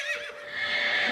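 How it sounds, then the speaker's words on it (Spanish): Horses neigh in a single loud, close, drawn-out whinny with a high, wavering pitch, used as a sound effect in a Spanish-language audiobook of The Witcher, with no narration over it. "Entonces, los caballos alzaron las cabezas y relincharon."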